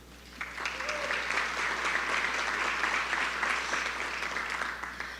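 Audience applause at a Best of Plano awards event, a steady sustained round of clapping from a crowd at moderate distance, continuing for several seconds without talk.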